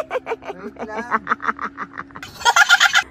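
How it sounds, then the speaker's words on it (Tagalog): Ducks near a small boat give a rapid series of quacking calls, close and clear, followed by a burst of noisier squawks at the end. "Partner, natatakot na yung bibe."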